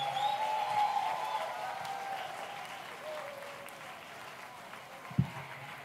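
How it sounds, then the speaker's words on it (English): Audience applause at a kiki ball dance battle fills the room with steady clapping that fades gradually over several seconds, ending with a single sharp knock near the close. "I'll give her a round of applause."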